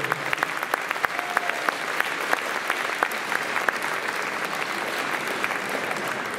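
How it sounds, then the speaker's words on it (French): Audience applause at the Utopiales award ceremony, a continuous crowd of clapping with sharp individual claps popping out near the front, steady throughout and with no voices over it. "Merci, on les applaudit bien fort."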